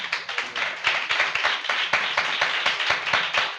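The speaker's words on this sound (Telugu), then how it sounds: "చప్పట్లు కొట్టండి." A church congregation at a Sunday service claps hands together, a dense, steady run of close, loud claps that continues throughout without speech.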